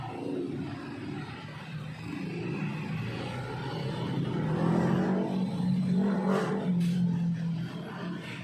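A Yamaha Mio Gravis 125 air-cooled 125cc scooter engine runs and revs, a low steady drone that swells midway and holds, close by with no talking.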